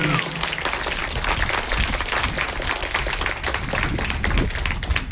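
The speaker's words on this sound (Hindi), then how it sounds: "मैं चाहूंगा एक बार और जोरदार तालियां।" Audience applause at a yoga and pranayama gathering, a dense steady patter of many hands clapping that runs the whole time without a break, moderately loud and close, with a faint murmur of voices underneath.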